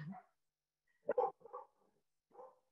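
A dog barks a few times indoors, short sharp barks with gaps between them, moderately close and fairly quiet against an otherwise silent room.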